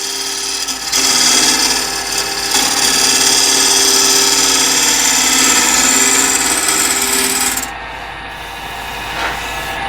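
Woodturning tool cutting a bowl on a lathe, a loud continuous scraping hiss of the gouge on spinning wood for several seconds, then easing to a lighter, quieter cut near the end.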